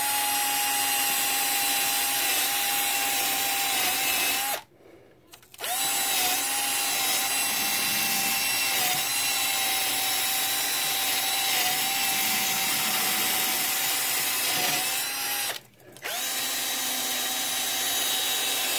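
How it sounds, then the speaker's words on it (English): A power drill with a wire brush whirs steadily with a scraping, abrasive grind against a metal engine water jacket on a 1995 Honda Passport, pausing briefly twice before running on. "I'm going to clean this water jacket with a drill and a wire brush"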